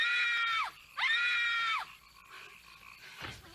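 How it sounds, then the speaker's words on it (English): Two long, piercing screams in the video game Night Trap come one after the other, each held for nearly a second before cutting off, followed by quieter muffled sounds. "The same scream twice."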